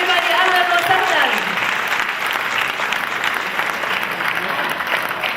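Audience at the Miss Arab USA pageant clapping steadily and loudly to welcome a guest on stage, dense continuous applause with a host's voice over the top at first.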